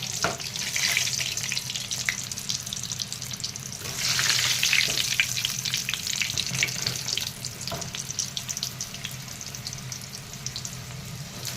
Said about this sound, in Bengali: গরম তেলে ছেড়ে দিলাম। এইভাবে প্রত্যেকটাই ছেড়ে দেবো।